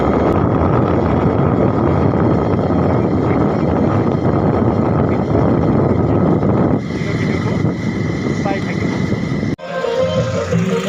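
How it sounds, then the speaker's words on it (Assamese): Motorbike ride through Chhattisgarh streets during Durga Puja, with a steady, loud engine and wind rumble throughout that eases slightly near the end after a brief dip. "মই বাইকত যাই আছোঁ।"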